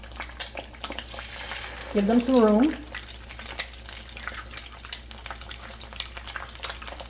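Two eggs fry in a pan on medium-low heat, giving a steady soft sizzle with a brief louder burst as they hit the pan, while a person speaks over it.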